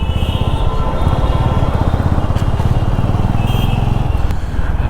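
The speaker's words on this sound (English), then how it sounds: "the bike is running absolutely fine. This motorcycle, the CB350" A Honda CB350 motorcycle engine runs steadily close by, a loud continuous throb that holds evenly from start to finish with no voices.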